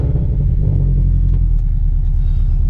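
A car engine rumbles loud and close right after startup, a steady low drone that holds throughout with no voices over it.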